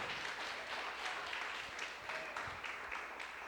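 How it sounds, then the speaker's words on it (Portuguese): Congregation applauding in a church service, a steady wash of clapping from many hands throughout, fairly even in loudness with no voices clearly standing out. "Aplaude a Jesus, que Ele merece."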